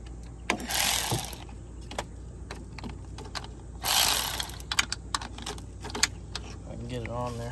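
A ratchet working to loosen a 13 mm bolt during a timing belt and water pump job on a Linde H25 forklift: close metallic clicking and rattling in bursts, with a brief voice at the end.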